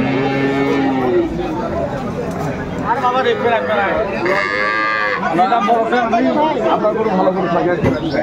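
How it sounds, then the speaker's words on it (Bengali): Dairy cows and calves of an improved breed low and moo repeatedly at the crowded Aftabganj cattle market in Dinajpur, loud and close, over a constant babble of people talking nearby. "বেশ মানের গাভী বাছুর আমরা দেখছিলাম"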